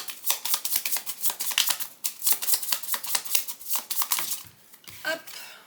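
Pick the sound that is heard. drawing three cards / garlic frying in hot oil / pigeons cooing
drawing three cards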